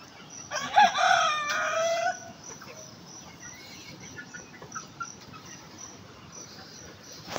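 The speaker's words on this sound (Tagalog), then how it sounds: "Yung isang manok namin" A rooster crows once loudly nearby at a backyard chicken coop, followed by soft scattered clucks from the hens and faint crickets in a quiet rural setting.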